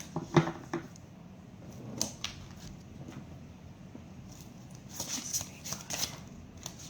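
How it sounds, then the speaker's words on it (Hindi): Tarot cards shuffled and drawn by hand, with soft papery riffles and flicks and a few sharper snaps, close up with some talking around them. "पहले मैं कार्ड्स ले लेती हूँ"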